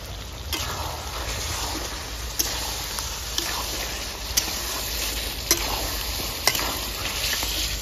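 Mutton frying with ginger garlic paste in a village-style curry pot, a continuous sizzle with occasional sharp stirring clicks and scrapes at roughly one-second intervals, fairly quiet and without talk.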